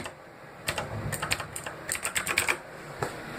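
Rapid clacking keystrokes on a keyboard, close and crisp, coming in quick irregular bursts with a final lone tap.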